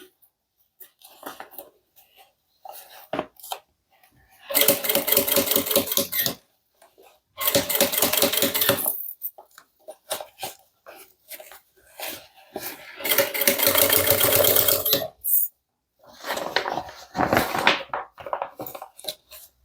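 A sewing machine runs a simple seam around a handmade bag in bursts of rapid stitching, four loud runs of a second or two each, separated by quieter pauses with small handling noises.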